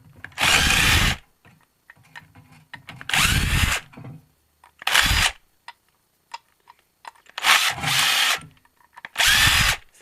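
A power drill fitted with a Phillips bit backs screws out of scrap, running in five loud, close bursts of a second or so each, separated by quiet handling and faint clicks.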